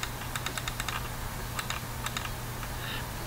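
Quick bursts of typing on a computer keyboard while entering combo box items, clusters of crisp close keystrokes separated by short pauses, with no talking.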